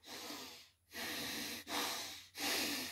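A person performing a breathing exercise learned in Africa: four strong, rhythmic breaths pushed hard through the nose and mouth, each a loud airy rush separated by brief pauses, close to the microphone.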